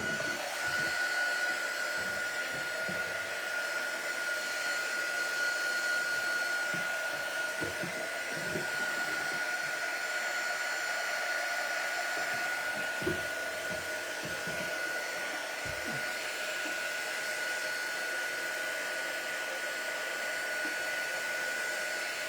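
A hair dryer runs continuously for over twenty seconds, drying a watercolour and bleach portrait painting; a steady close whooshing roar with a faint constant whine, no speech.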